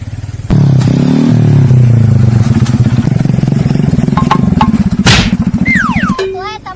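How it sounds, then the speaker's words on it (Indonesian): A motorcycle engine runs loudly up close, revving unevenly with clattering and scraping, then cuts off into brief chirps at the end. "eta motor ulah dirubukeun kitu sih"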